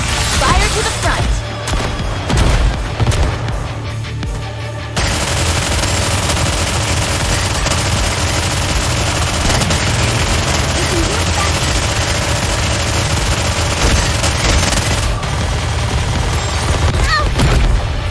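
Gunfire in the video game NIKKE, a loud, unbroken stream of rapid automatic shots and impacts that runs through the whole stretch, with character voices heard over it.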